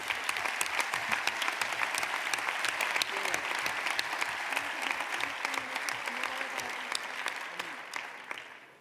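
Sustained applause from a party congress audience for guests of the PP of Aragón, a dense wash of many hands clapping steadily throughout and fading slightly at the end.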